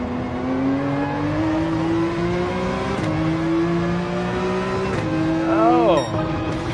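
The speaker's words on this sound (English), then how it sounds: "Full throttle through that turn." A race car engine in Gran Turismo 7 screams at full throttle on the Spa 24-hour layout, holding high revs with gear shifts and a rising whine near the end, while a voice talks over it.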